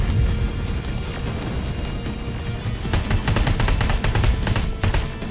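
Gunfire from a weapon in the Terminator: Resistance game, loud rapid bursts of shots that grow denser and more forceful in the second half, with booming impacts mixed in.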